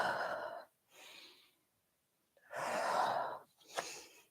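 Breathing during a yoga session: two broad breathy bursts separated by a short quiet gap, the second long and fuller like a deep inhale, close and fairly soft with no talking.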